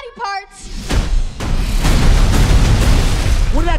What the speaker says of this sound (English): What did I tell you? Minimal explosions.